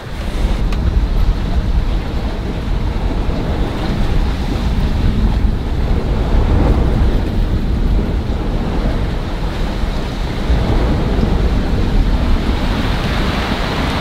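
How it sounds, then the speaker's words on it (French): A squall at sea heard from aboard a sailboat: heavy, steady wind roar and rushing water, loud and close, with gusts buffeting the microphone throughout and no voices. "Dis donc, c'est un sacré grain celui-là."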